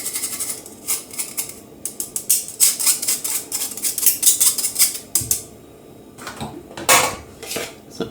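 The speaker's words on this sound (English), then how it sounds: "So I'm going to just stir it with the spoon." A spoon stirs red velvet cake mixture in a bowl, making clinking, tapping strokes in quick uneven bursts of varied loudness. The sound is close and heard alone, with no talking.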